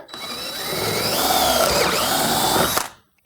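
A power drill whines steadily for nearly three seconds as it bores a hole through PVC in a jig, pitch dipping briefly mid-cut, then stops abruptly.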